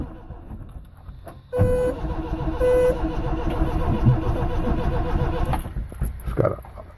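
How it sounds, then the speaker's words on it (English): An old Datsun truck that has not run in years, battery newly recharged and fitted with an automatic choke, fires up in painfully cold weather; a sudden loud start gives way to a steady, rough running engine heard up close. "this old truck will start up."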